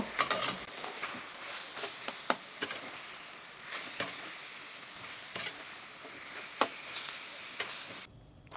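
Chicken korma ingredients, including ginger-garlic paste and fried onions, are stirred together in a pan, with soft repeated scrapes and taps over a faint, quiet sizzle.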